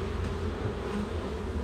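Honey bees hum in a dense, continuous drone close up at an open hive during an inspection of a honey super.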